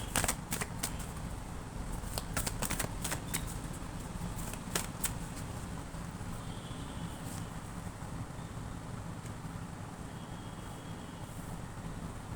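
Tarot cards shuffled in quick crisp riffles early on, the sharp flicks thinning out over a steady windy hiss that fills the rest of the stretch.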